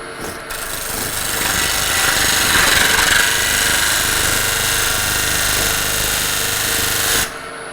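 Wood lathe turning a tenon on a wooden salt shaker: a loud, continuous whirring hum with a rough scraping of the tool against the spinning wood, steady for several seconds before stopping abruptly.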